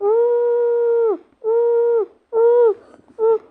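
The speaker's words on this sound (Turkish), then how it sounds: "O köpek ağlıyor lan resmen." A dog howls in four drawn-out, steady cries, the first long and the rest shorter, loud and close with brief pauses between.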